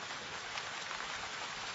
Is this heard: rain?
yes